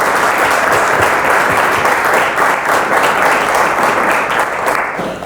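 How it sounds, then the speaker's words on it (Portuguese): A live podcast audience in a packed room gives loud, sustained applause, many hands clapping at once. The applause stays strong throughout and eases off slightly near the end. "é uma grande salva de palmas para ele"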